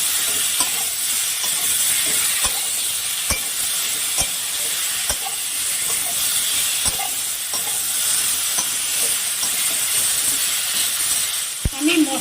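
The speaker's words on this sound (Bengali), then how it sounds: "এবার আমি মশলাটাকে ভালো করে কষিয়ে নেব।" Chili powder, turmeric, chopped tomato and salt frying as a spice paste in a pan, with a steady close sizzling hiss and scattered sharp clicks of a spoon stirring against the metal.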